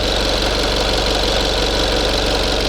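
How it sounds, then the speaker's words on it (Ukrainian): A warmed-up Mitsubishi L200 pickup engine idles steadily up close with a low, even chug and a faint rattling vibration running through it. "двигунець вже прогріли. Ось тут десь вибрирує Непонятно що."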